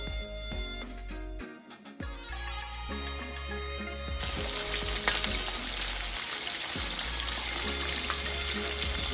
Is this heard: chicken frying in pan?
yes